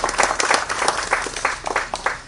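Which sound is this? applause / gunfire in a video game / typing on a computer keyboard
applause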